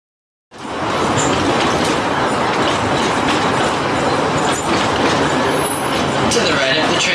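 The Cowichan Valley Railway train at the BC Forest Discovery Centre rolls along its tracks with a loud, continuous rumble and clatter of wheels, heard close and steady throughout, with talk faintly underneath.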